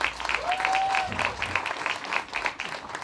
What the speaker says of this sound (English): Round of applause for Niles.